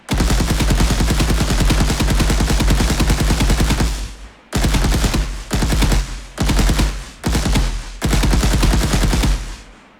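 Rapid automatic gunfire from a third-person shooter video game built in Unreal Engine, loud sustained bursts of rhythmic shots: one long volley, then four shorter bursts separated by brief pauses, with no speech.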